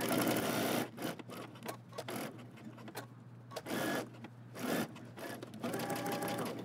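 A sewing machine stitches a jumpsuit seam, whirring in bursts of steady mechanical buzzing that stop and restart between pivots, close up and fairly quiet.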